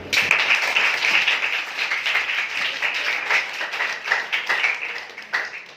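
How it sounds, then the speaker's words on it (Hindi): Applause from a seated audience at a religious quiz and prize event, a dense, steady patter of many hands clapping throughout with no talk over it. "बैठे हैं, तालियां दें।"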